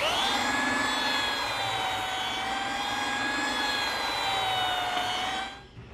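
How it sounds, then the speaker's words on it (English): A small belt sander smooths jigsaw cuts in wood, giving a steady, close, droning motor whine with a rough abrasive hiss that runs for several seconds before cutting off. "to smooth up the saw cuts from the jigsaw, I'm just using my small belt sander"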